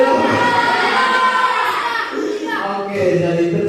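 A classroom of students claps for a student group, a dense steady patter with children's voices shouting and chattering over it, fading briefly before rising again.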